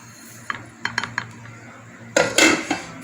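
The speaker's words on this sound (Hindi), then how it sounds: "इसको अच्छी तरह से मिक्स कर लेंगे" Besan (gram flour) batter with spices being mixed in a bowl, with a few light clinks of a utensil followed by a louder burst of scraping and clattering.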